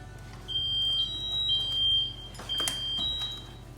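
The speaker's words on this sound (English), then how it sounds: "let's use our good listening ears to see if we can hear the beeping" A smoke alarm at a fire station gives repeated high, piercing electronic beeps in a steady on-off pattern, with no one talking.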